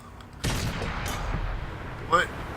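A tank gun firing in World of Tanks, one sharp loud blast followed by a rolling rumble, then a second brief metallic ringing crack near the end, over low engine drone.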